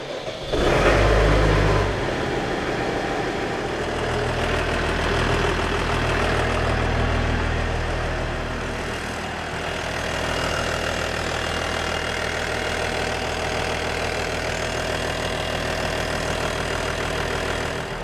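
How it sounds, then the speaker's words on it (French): A Massey Ferguson tractor engine cranks and fires with a loud burst, then settles into a steady, rumbling diesel idle with slight swells in level, close by and without talk. "maintenant, ce que je vais faire, je vais démarrer le tracteur"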